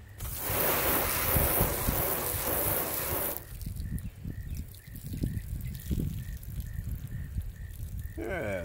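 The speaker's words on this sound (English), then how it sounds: "it's really dumping the water off fast" Water pours and sheets off a car's surface treated with Adam's slick & slide detail spray in a steady loud rush for a few seconds, then drops to lighter trickling and dripping.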